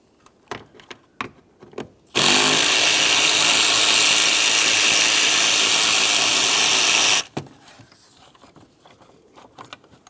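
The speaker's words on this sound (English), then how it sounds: "Remove that 8mm headed bolt." An 8mm headed bolt is removed from a radiator fan on a 2003-2011 Mercury Grand Marquis, giving one steady, loud, close burst of a power tool lasting about five seconds, with quiet clicks and handling noises before and after.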